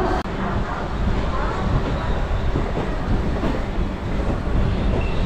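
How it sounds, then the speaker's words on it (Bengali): A Howrah–Bardhaman galloping local train pulls out of Howrah station, its carriages rumbling loudly and steadily with rhythmic clatter, heard from on board amid faint background voices. "পাঁচটা 25-এর ট্রেন 5টা বেজে 40 মিনিটে ছাড়লো হাওড়া স্টেশন থেকে।"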